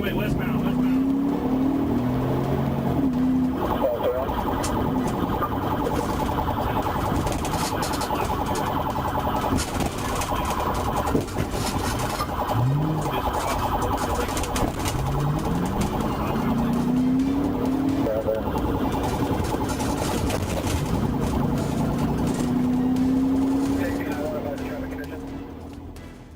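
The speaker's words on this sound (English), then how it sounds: "sirens blaring" A police car siren wails during a pursuit through busy traffic, its rising and falling tone sweeping repeatedly over steady road and engine noise, with voices talking underneath throughout.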